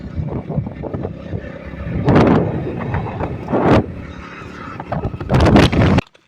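Motorbike ride out to a farm field, steady engine rumble mixed with heavy wind buffeting on the microphone and several loud gusts, recorded close from the rider's position.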